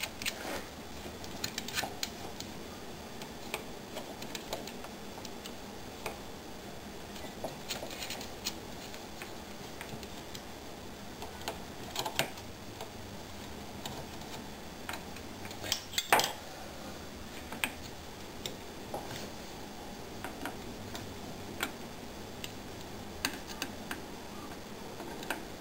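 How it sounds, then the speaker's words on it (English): Metal parts clink and tick quietly as bolts are fitted to secure a CNC router's stator back in place during a bearing change, with scattered small taps and scrapes over a steady low hiss. "So I'm just going to bolt the stator back on."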